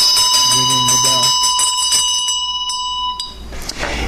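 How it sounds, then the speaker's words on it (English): A ritual bell rung during a Buddhist sadhana practice, a bright sustained ring with steady high overtones that slowly decays over several seconds, heard close while a voice talks over the start. "ringing the bell"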